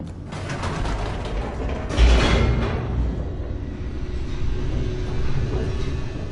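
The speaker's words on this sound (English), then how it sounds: "The elevator raced downward, plummeting towards an unknown fate." An elevator plunging downward in The Stanley Parable, a loud grinding mechanical rumble with creaking and rattling, a heavy jolt early on, then a sustained roar that continues steadily.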